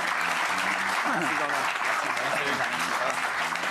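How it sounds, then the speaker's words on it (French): A TV studio audience applauds a guest with dense, steady clapping that continues throughout, while a presenter's voice speaks over it. "Applaudissements pour lui."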